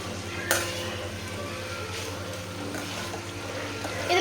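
Chicken sizzles and fries in a pan while being stirred, a steady crackling hiss with a sharp scrape near the start and a few softer utensil clinks against the pan.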